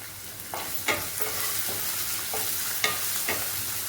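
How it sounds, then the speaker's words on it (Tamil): Vegetables sautéing in a pan with salt for kara bath, a steady soft sizzle with several sharp stirring scrapes at irregular intervals, close and alone. "சும்மா 2 நிமிஷம் வதங்கினா போதும்."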